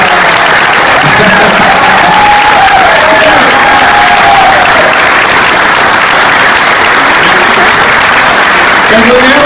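A theater audience at a comedy show in Valensole applauds loudly and steadily, a dense wash of clapping with scattered cheers filling the hall, continuous and close throughout.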